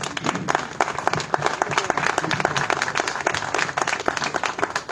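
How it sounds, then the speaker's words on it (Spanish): An audience gives a warm round of applause for a professor: many hands clap briskly and steadily, with individual claps standing out close by, throughout the five seconds. "Un aplauso para el profesor Héctor Martínez Pérez."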